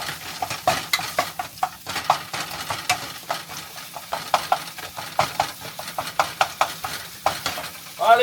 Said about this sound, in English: So, quick cook for the meat.